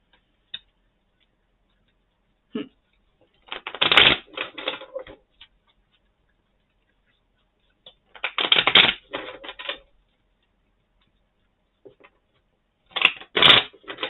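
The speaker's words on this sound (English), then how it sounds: "I'm like shuffling and I see like the" Three bursts of tarot card shuffling, each a crisp riffling rush lasting about a second or two, separated by quiet pauses with a few soft taps.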